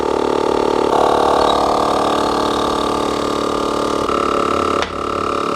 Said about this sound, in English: Let's go to 35. This pump's super quiet too.